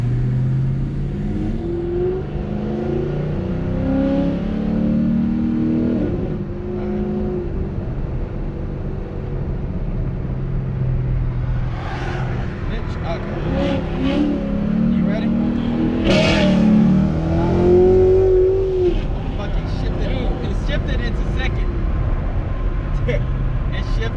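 A 2009 Pontiac G8 accelerates hard and shifts into second, its engine roaring and rising in pitch before the gear change, loud and close inside the car with people talking over it.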